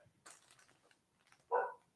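A single short, loud bark from a dog nearby, following a stretch of quiet murmuring voices in the background.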